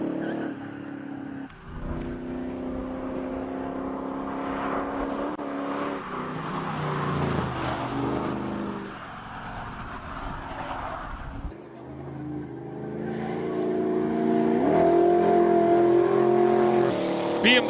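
Classic BMW car accelerating at the Speed Classic Cape Town motorsport event, its engine note rising and falling across several pulls and swelling louder toward the end, heard at moderate distance over open outdoor ambience.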